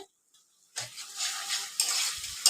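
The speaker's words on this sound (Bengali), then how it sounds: "এখানে তরকারি মশলাটা কষা হচ্ছে" Curry spice paste frying in oil in a pan, with soft sizzling and a few short scraping stirs of a spoon against the metal, close and fairly quiet.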